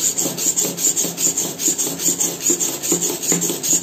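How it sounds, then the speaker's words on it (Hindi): A hand plane blade being rubbed back and forth on a sharpening stone, giving a loud, rhythmic gritty rasp of steady strokes, roughly three per second, close up with no talking. "पथरी का पूरी का इस्तेमाल करना है, ये नहीं एक ही जगह रगड़ते रह जाओ आप"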